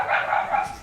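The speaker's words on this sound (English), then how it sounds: "The dog barks" A dog gives a single short, mid-pitched bark, fairly faint and brief, with no other sound around it.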